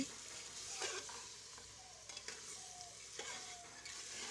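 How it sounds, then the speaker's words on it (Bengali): Mutton with meat spices stir-fried in a pot for a Bengali mutton curry: close, soft sizzling broken by repeated scraping strokes of a spoon against the pan, with no voices. "এবার এটাকে ভালো করে কষিয়ে নেব।"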